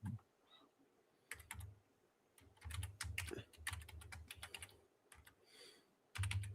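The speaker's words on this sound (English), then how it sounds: "Hang on, I'm typing something." A computer keyboard is typed on in quick bursts of clicking keystrokes with short pauses between runs, fairly quiet and close, with no talking.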